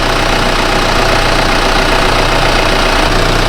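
A steady Isuzu Dragon pickup truck engine idling close by, a continuous low rumble with a faint rhythmic knock and no voices.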